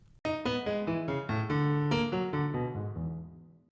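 Played alone on piano, the left-hand arpeggio progression from Bartok's Bagatelle No. 2 moves in a steady stream of overlapping mid-to-low notes that blur into one another before a final chord fades away.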